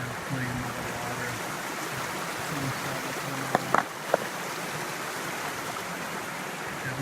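Creek water flows in a steady broadband wash, with a few brief clicks or knocks near the middle and no speech.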